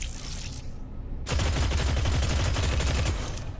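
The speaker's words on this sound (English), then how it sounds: "The really quick firing SMG." Very rapid submachine-gun fire in the shooter game Deadzone: Rogue, starting after a short quieter stretch, then a loud, dense, continuous burst of shots that fills the rest of the moment.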